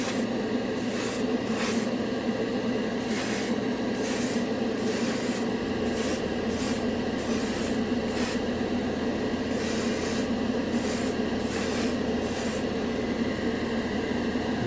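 An airbrush laying down a heavy coat of metallic color-shifting paint, short and longer bursts of hissing spray starting and stopping over a steady background hum, close up with no speech.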